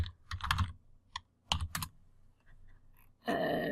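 Fingers tap out short bursts of clicks on a computer keyboard, close and crisp, with pauses between clusters, followed by a louder rustling sound at the end.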